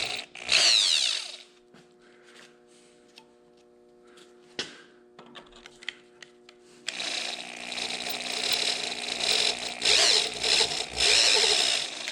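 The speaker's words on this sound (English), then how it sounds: "Let me go ahead and we'll try to ream this one out." A power tool reams the taper of a steering center link on a C-cab build, whirring in two loud near bursts: a short one at the start, then a long steady run filling the second half, with quiet clicks and handling between.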